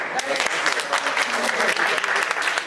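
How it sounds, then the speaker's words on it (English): Applause from a crowd at an Iftar gathering, dense rapid clapping that holds steady and fairly loud throughout, with faint voices mixed in underneath. "Another big round of applause."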